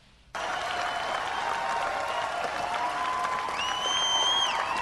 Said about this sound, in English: You hear the prolonged applause?